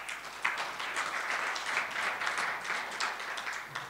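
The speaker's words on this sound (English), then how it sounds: "I think let's give him a round of applause." A gala dinner audience at an Africa universities forum gives a round of applause, a steady patter of many hands clapping at moderate distance for a few seconds, fairly even throughout.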